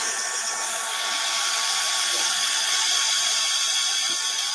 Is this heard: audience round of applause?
no